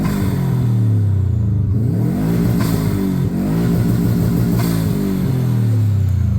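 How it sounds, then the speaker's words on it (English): A 1994 Subaru Impreza WRX engine revs repeatedly through a massive exhaust, loud and close, with the pitch swinging up and down and rapid flutter between blips. "It sounds crazy with this massive exhaust on the back that you can get your whole foot in."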